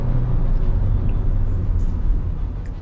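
A Skoda Slavia sedan pulls hard in sports mode, a steady engine and road roar heard from inside the car, dense and even for a few seconds with no talk.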